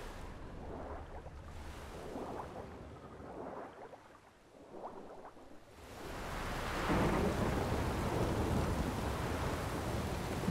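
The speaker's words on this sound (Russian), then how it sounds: "Гроза, это нехорошо." Thunderstorm in The Witcher 3: low rolling rumbles of thunder in the opening seconds, then steady heavy rain and wind swelling up and holding loud to the end, with no voices.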